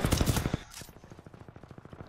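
R-97 submachine gun in Titanfall 2 firing a rapid automatic burst, fast evenly spaced shots after a brief louder opening flurry, close and moderately loud.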